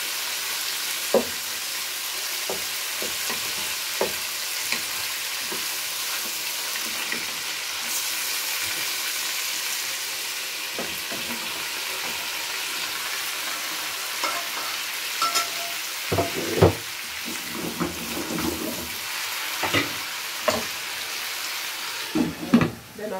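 Meatballs brown and sizzle in a pan with a continuous frying hiss, punctuated by scrapes and clinks as they are turned, growing busier toward the end.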